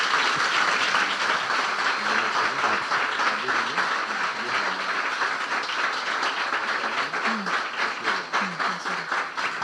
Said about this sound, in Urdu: اگر آپ کو برکت مل رہی تو یسوع کے جلال کے لیے زوردار تالیاں بجا دیں